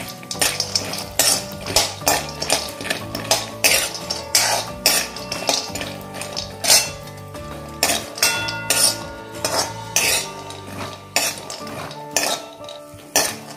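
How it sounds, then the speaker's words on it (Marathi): Almonds roasting in a pan for panjiri, with repeated sharp metallic clinks and scrapes of a spoon stirring against the pan in an irregular rhythm. "बदाम सुद्धा थोडेसे क्रंची होईपर्यंत आपण भाजून घेऊया।"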